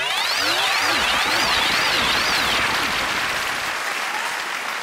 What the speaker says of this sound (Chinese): 我们热烈的掌声送给12位老板